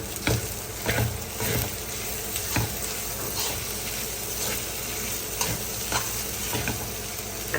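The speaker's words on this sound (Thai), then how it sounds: "ใส่ปลากระป๋องนะครับใส่ไปเลยครับ แล้วผัดนะครับ" Canned fish being stir-fried in a pan, with a steady sizzle and repeated scraping strokes of a utensil at an even rhythm, close and continuous.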